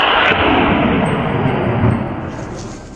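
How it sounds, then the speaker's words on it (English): A heavy, booming blast that rumbles and slowly fades out over a few seconds, like a single gunshot at wild hogs echoing across open ground. "the sound of gunfire sent the hogs scrambling in all directions"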